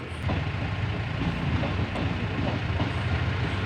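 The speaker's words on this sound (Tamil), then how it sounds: "ரயில்வே கேட் அடைச்சிருந்து பாருங்கள் எங்கள் ஊரில் ட்ரெயின் போயிட்டுருக்கு" A train rolls past a closed village railway crossing, a loud continuous rumble with faint rhythmic clatter throughout.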